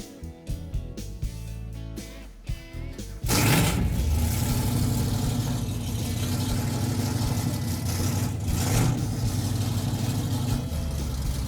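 A car engine with a newly fitted exhaust is loud and continuous after a quieter opening of a few seconds, revving hard and throaty through a couple of swells, close to the listener.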